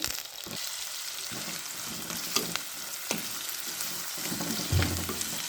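Two sliced onions sizzle and fry in a pan for Kerala-style fish mappas, a soft steady crackle with occasional stirring scrapes and clinks, moderately close and without speech.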